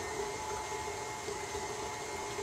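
A stand mixer runs steadily while beating choux pastry dough for traditional carolinas, a continuous even motor whir with a faint rattle, close and alone with no talk.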